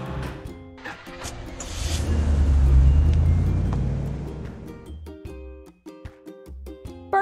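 A drop side truck engine in a kids' construction video game swells from a low rumble to a loud, sustained roar, then fades, with cheerful game music and chimes around it.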